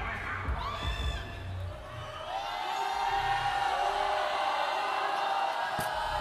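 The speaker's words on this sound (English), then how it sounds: "Got the crowd kind of jeering him and distracting him a bit." Basketball crowd at a 3x3 Chooks-to-Go Asia Pacific Super Quest quarterfinal jeers a player at the free-throw line: a sustained, swelling arena roar of mixed shouts and whistles, loud and continuous throughout.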